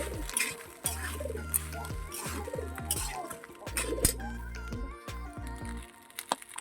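Fried rice pilau with chickpeas and potatoes stirred in a pan, a spoon repeatedly scraping and clinking against metal in an uneven rhythm, with low hum beneath and faint bird coos nearby.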